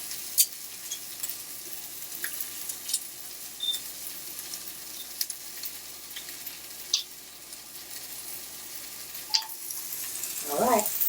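Shrimp seasoned with turmeric and cayenne pepper frying in a pan at home, a steady broadband sizzle with occasional small clinks and taps throughout.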